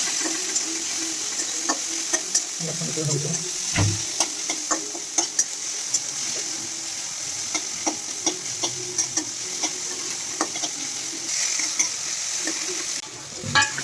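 Coriander and chili powder are stirred into a soybean curry in a pan. A steady sizzle runs under repeated scraping and tapping of the spoon against the pan, with no one talking.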